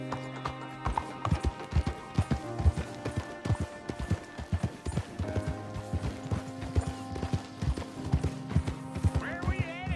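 A horse's hooves clip-clop steadily in Red Dead Redemption 2, a quick rhythmic beat of close, crisp strikes heard over a bed of sustained game music.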